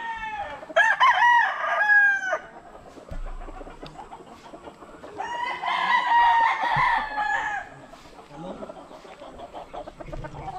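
Young gamefowl stags, including Kelso-type birds, crowing in two strained, wavering bursts close by, with softer clucks and farmyard chatter in the gaps between.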